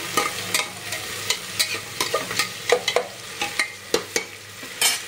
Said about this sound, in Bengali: চলো ভাজা ভাজা হোক